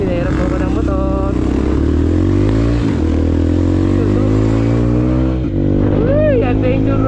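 A loud Honda CRF150 dirt bike engine drones steadily on a trail ride, revving up and down close by, with brief throttle surges and no talking.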